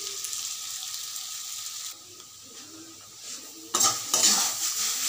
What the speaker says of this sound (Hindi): चलिए इसे हल्का भून ले रही हूँ अच्छे से।